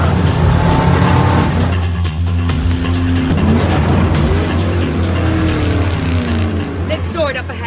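Race cars, with navigators riding along, roar loudly and continuously as a race gets under way, their engines droning and revving in a dense, steady wash of motor noise.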